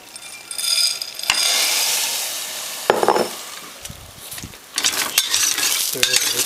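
Soybeans stir-fried in oil in a pan, a bright hiss of sizzling that swells and fades, broken by scraping and clinks of a utensil against the pan.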